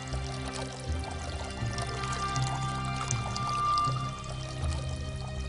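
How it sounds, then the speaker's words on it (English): Water from an ancient Greek water clock runs steadily from one jar into another, a continuous pouring and trickling wash that stays moderately loud throughout with a low hum beneath. "1 jar of water steadily running into another."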